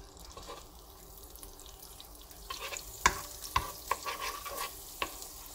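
Butter melts in a frying pan with a faint, soft sizzle, joined midway by a series of sharp utensil clinks and scrapes against the pan.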